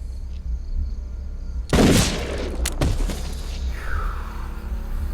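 A single sharp gunshot from an Ozark television episode cracks over a low rumbling soundtrack, followed by a brief second crack and a fading tail, loud and close.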